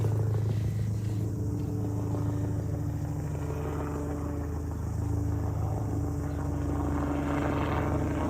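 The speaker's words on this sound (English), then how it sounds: "now we have a helicopter going over" A helicopter passes overhead with a continuous low rotor drone and rumble, steady and fairly loud the whole time, with no talking over it.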